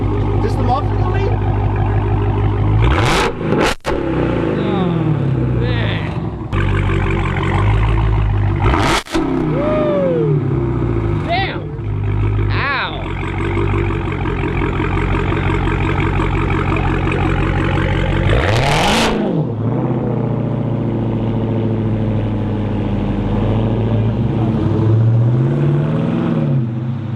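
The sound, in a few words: Hemi engine revving with muffler deleted exhaust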